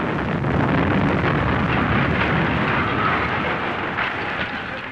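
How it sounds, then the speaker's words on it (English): Bomb explosion on a street in Belfast, a loud sustained roaring rumble that stays steady and then eases slightly, with no talk. "A street in Belfast, another bomb."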